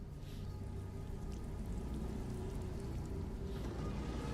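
Steady rain pours down in a video game, a dense, continuous hiss of drops and rumble holding at an even level throughout with no break.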